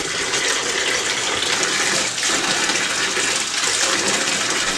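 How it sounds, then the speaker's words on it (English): Steady rushing gush of hot water pouring into a tub, loud and continuous with slight dips in flow. "We're refilling for the rinsing with another tub full of hot water."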